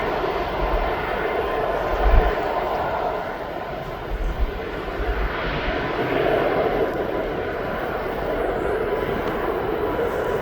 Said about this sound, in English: So this Ryanair is now off to Venice.